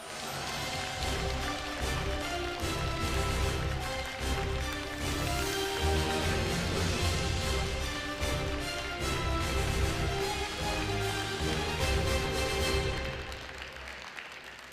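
Audience at a Korean regional forum applauding to welcome Ulsan's mayor to the stage, a dense, even roar of clapping sustained for over ten seconds before tapering off near the end.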